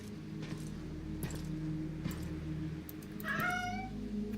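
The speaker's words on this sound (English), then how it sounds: "Oh, look at the kitty." A cat meows in the video game Sinking Iron, one drawn-out plaintive meow near the end over a steady low in-game hum, with faint clicks and rustles earlier.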